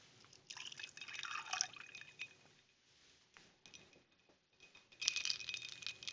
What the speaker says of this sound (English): Polish that off with a splash of Jameson.